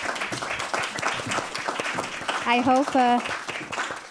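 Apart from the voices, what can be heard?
audience applause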